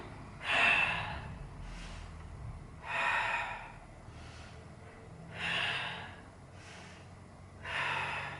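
Four slow, deep breaths in during a Pilates class exercise, each a soft airy rush spaced about two and a half seconds apart, close and alone with no talk.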